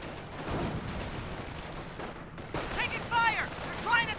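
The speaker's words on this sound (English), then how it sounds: "Oh, the G43 is suppressing the Flamer squad." Suppressing gunfire from a G43 rifle squad in the World War II strategy game Company of Heroes, a continuous dense rattle of distant shots with a voice speaking briefly near the end.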